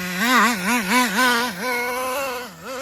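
A Traxxas Nitro Slash RC car's small nitro engine, once seized and locked up after a year of neglect, runs with a buzzy, wavering whine that rises and falls in quick repeated revs before settling to a steadier idle, close and loud.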